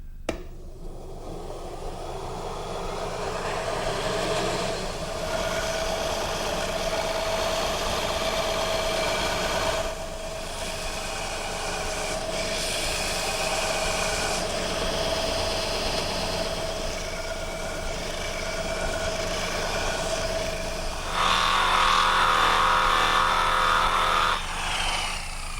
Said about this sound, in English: Now what I want to do is roll the front edge of the seat, and to do that I'll use my belt sander.